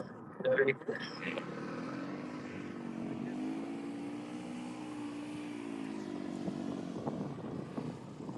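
Rally motorcycle at the Abu Dhabi Desert Challenge stage start, engine idling and revving steadily nearby as it pulls up to the start line, with a voice speaking over it throughout.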